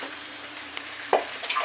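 Washed chicken pieces dropped into a pan of reddened fried onions, giving a steady soft sizzle with a brief sharp crackle as they hit the hot oil.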